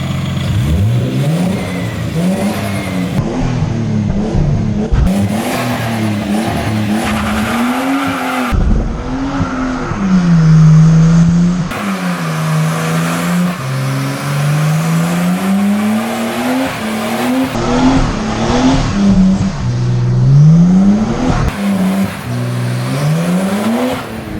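Nissan Skyline R32 doing a street burnout: loud, sustained engine revving that rises and falls repeatedly, with tire squeal and skidding underneath, continuous and close for the whole stretch.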